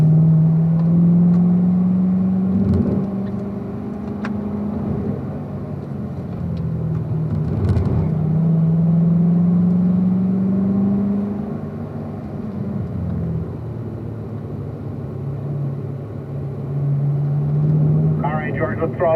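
A race car's engine drones loud and close on track, its pitch rising and falling as it winds out and accelerates out of a turn, with steady rumble throughout and no talk.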